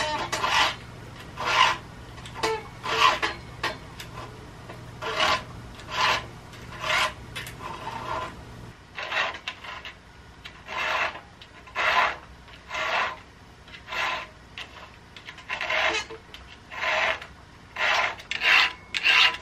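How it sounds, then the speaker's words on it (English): A hand file rasping rhythmically across the teeth of a dull chainsaw chain, steady close strokes repeating about once a second with short pauses, no talking. "Figure I better touch up the chainsaw. She's pretty dull from the last time we used her."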